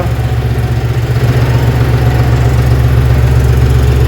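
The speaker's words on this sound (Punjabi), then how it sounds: "ਕਰਤਾ ਬਾਈ ਟਰੈਕਟਰ ਸਟਾਰਟ" A John Deere 5105 tractor engine idles loud and close with a steady low, pulsing chug that settles into an even rhythm.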